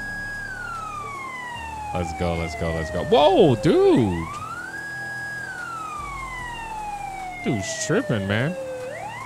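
A GTA 5 police car siren wails continuously, its pitch sweeping slowly down and up in long cycles, while someone talks loudly over it in short bursts.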